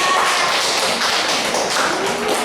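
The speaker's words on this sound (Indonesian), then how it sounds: "beri tepuk tangan kepada kelompok 3" Students in a classroom clap for a presenting group, a dense, close burst of many hands patting and tapping steadily with no pause.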